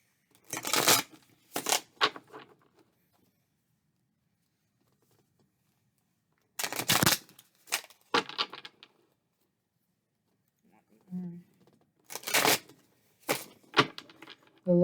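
Tarot cards shuffled by hand in short broadband riffling bursts grouped in clusters with quiet gaps between, close and fairly soft, with a brief murmur of voice in the middle.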